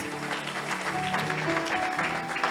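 Church congregation applauding during a French and Lingala worship service, a dense, steady wash of clapping with crowd noise and faint voices mixed in.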